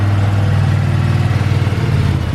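A 2021 Ducati Panigale V2 on its stock exhaust idles close by, a loud, steady low throb with a fast, even pulse that holds for the whole stretch and has no voices over it.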